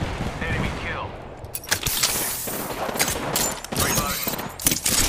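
Rapid video game gunfire in a squad shootout, bursts of sharp shots in quick succession with brief pauses between them and a voice speaking over the action.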